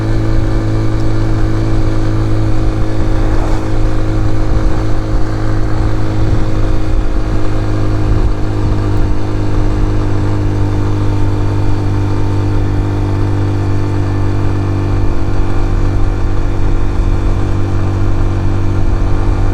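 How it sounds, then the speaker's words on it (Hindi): A heavily loaded motorcycle on the climb from Naran toward Babusar Top drones steadily in gear, its engine loud and close, the RPM climbing to about 7000 throughout. "ये देखिए RPM कैसे ऊपर जा रहा है, 7000"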